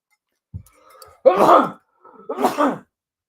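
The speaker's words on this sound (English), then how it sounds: "Once again, I have sneezed on the air" A sharp intake of breath followed by a loud sneeze, then a second forceful burst a moment later, close and clear in a quiet room.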